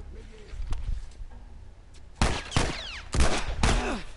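Gunfire in the video game The Last of Us: a few quiet shots early on, then four loud, sharp gunshot blasts in quick succession, each with a short echoing tail.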